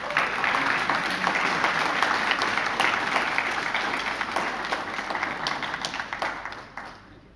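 Sustained audience applause at a Gaisce Gold Awards ceremony with the President of Ireland, dense steady clapping from a large crowd that holds strong and then fades away at the end.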